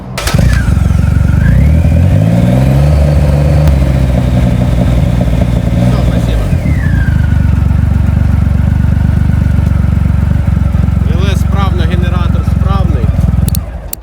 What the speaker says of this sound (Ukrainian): А можете его завести ровный газ где-то тысячи три оборотов?